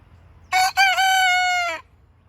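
A single pet rooster crows once up close, a clear, loud cock-a-doodle-doo with a brief break after the opening note, standing alone against a quiet background.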